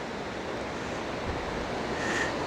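Waterfall in Nay Aug Park in Scranton, Pennsylvania, a steady broad roar of rushing water below a treehouse, constant and fairly loud, with some wind buffeting the microphone.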